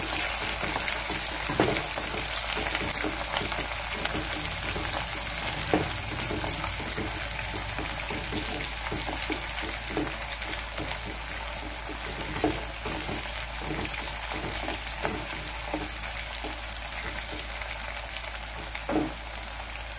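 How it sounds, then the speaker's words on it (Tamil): Onions, curry leaves, green chillies and dried red chillies frying in oil for a Chettinad-style brinjal dish, a continuous even sizzle with small scattered pops, steady and moderately quiet. "வெங்காயம் செவந்து வந்துருச்சு, ரொம்பவும் செவக்க வேண்டாம், ஓரளவு வதங்கினா போதும்."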